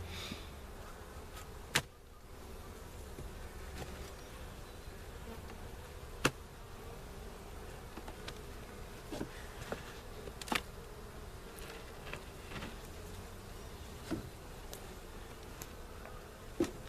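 Honeybees buzzing steadily around an opened hive during a spring brood box rotation, a dense continuous drone with occasional sharper passes of single bees close to the microphone.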